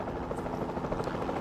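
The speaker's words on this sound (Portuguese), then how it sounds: "Ah, eu tô controlando o helicóptero." A helicopter's rotor in the video game Jurassic World Evolution 2 drones in a steady, close, dense whir for a brief moment, with no other sounds.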